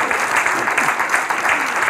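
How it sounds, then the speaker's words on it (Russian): A television comedy show audience applauds steadily, a dense and loud clapping that fills the whole short stretch. "звучат аплодисменты, аплодируют люди"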